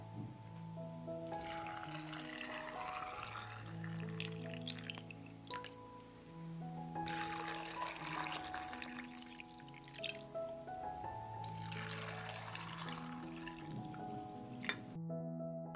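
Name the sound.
pouring cold water into jars of grapes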